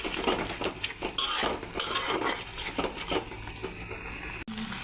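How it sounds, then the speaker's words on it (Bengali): Spoon scraping and clinking against a metal pan as spices are stirred and fried for an egg curry, steady close clatter with a soft sizzle underneath. "দিয়ে আবার মশলাটাকে কষিয়ে নেব"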